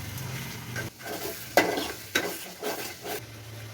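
Chili powder masala frying in a pan for Odisha-style chicken curry, stirred in a few distinct scraping strokes over a steady soft sizzle, heard close and alone.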